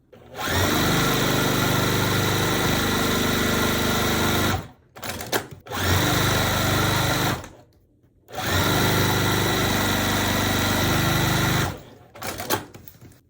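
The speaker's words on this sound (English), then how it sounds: "Now I'm going to sew the last piece on, and we are done with this block." A sewing machine runs fast and loud in three long bursts with short pauses between them, close up, as it stitches the last piece of a large log cabin quilt block.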